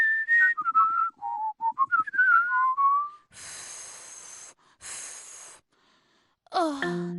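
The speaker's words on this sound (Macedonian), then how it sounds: "А потоа можеш да свиркаш и мелодија." Someone whistles a short wavering tune up close, followed by a couple of breathy blows and a final sliding whistle.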